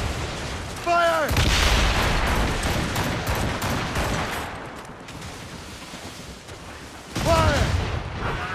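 A naval ship's cannon volley booms out in an Assassin's Creed Rogue sea battle, heavy blasts at the start and again near the end with rumbling, crackling gunfire and mechanical clatter between, loud and close under shouted crew voices.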